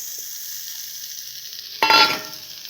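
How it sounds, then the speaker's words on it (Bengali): Slit green chilies and boiled taro leaves go into a hot pan: a faint background sizzle suddenly erupts into a loud burst of frying, then settles back over about a second. "আর কাঁচা লঙ্কা দিয়ে ভালো করে নাড়াবো।"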